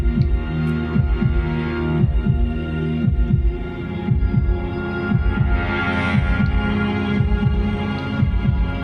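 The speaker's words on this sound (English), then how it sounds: "I do love the use of drones and music. I have an example to show the tension, the music here." A tense film score from The Republic, built on dense, sustained low drones with a pulsing, throbbing rhythm like a heartbeat, loud and steady throughout with no voices.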